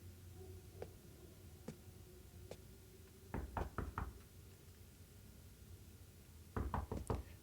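Knocking on a door in the indie video game Metamorphosis: a few faint single taps, then two quick bursts of four firm knocks each, fairly close, against a quiet low hum.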